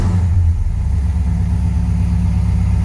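A 1968 Dodge Charger with a 440 engine and FiTech 30005 fuel injection idles steadily up close, a loud, even low rumble that runs alone without a break.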